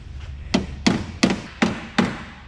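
A hammer strikes a metal part on a 105 series Land Cruiser with a turbo 1HZ engine, five firm, evenly spaced blows ringing close over a low background hum.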